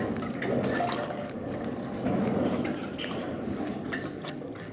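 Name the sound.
water collected under a stainless sliding gate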